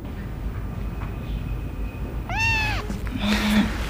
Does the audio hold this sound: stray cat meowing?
yes